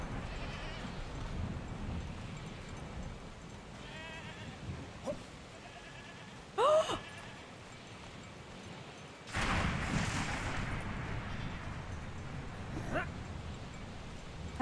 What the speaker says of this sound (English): Hello! Can I pet you? No, wait! Goat!